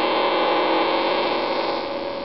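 Steady buzzing interference from an AMB Mylaps RC transponder picked up on an AM radio tuned off-station, a dense, unbroken noisy hum that stays loud and even throughout.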